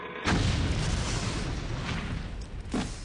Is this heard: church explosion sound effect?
yes